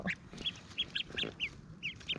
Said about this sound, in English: But look at these Ancona ducklings